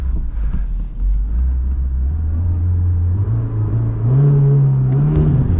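A LADA Niva Travel engine revs hard under acceleration, a loud, steady low drone that climbs in pitch over several seconds, rising sharply near the end as the car pulls, with road rumble underneath and no talk.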